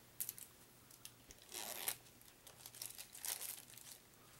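A tightly sealed pack of Zombicide 2nd Edition board game character cards being torn and crinkled open, faint close plastic rustles in short bursts with quiet pauses between.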